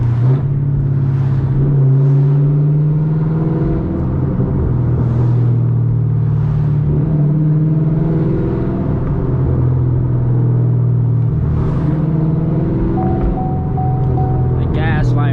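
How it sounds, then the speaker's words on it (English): A Camaro ZL1 drives at night, its loud engine droning and rumbling steadily with shifting tones as it moves through the gears, while someone talks over it. "As soon as I get to turn and I hear the car get so damn loud and forget."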